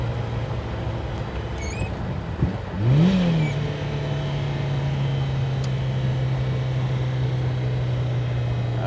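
A 1984 Lancia Rally 037 Stradale Evo engine revs while driving, heard from inside with the windows closed: a steady low drone that swells and climbs in pitch around the third second, then holds a sustained tone.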